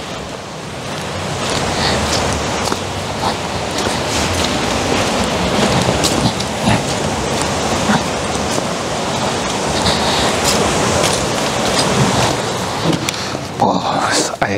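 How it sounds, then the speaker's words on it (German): Steady drizzling rain and gusting wind in cold, dark weather form a constant, dense wash of noise from start to finish, with no clear breaks. "Es nieselt, es ist kalt, es regnet, es windet und es ist dunkel."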